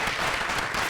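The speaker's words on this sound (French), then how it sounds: "On va l'applaudir encore plus fort." Studio audience applauds a guest on a French-language talk show, a dense continuous clapping that stays steady and fairly loud.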